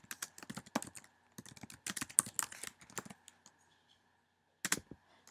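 Search terms being typed on a computer keyboard: quick bursts of close, crisp key clicks with short pauses, ending after a gap with a final small flurry of keystrokes.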